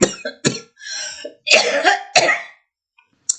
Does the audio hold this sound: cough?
yes